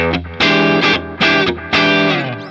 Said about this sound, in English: you want a little bit of overdrive here